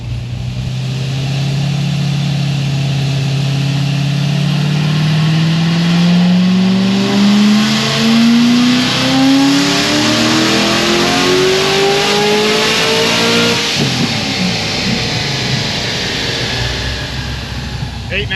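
A Stage 5 C6 Corvette Z06 makes a cold pull on a dyno, its engine roaring loud and close as the pitch climbs steadily through the revs for over ten seconds before cutting off abruptly.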